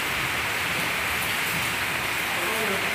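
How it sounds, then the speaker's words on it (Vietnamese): Steady rain falling, a dense and continuous patter-like hiss that stays loud and unbroken throughout. "Mưa đó con, mưa đó con."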